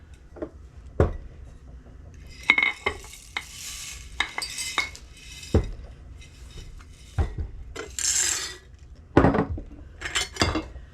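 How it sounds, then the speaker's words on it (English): Dry noodles and other dry foods poured into storage jars, in separate bursts of rattling and rustling between sharp glassy clinks and knocks. "So we're going to add 1 cup of these to each jar."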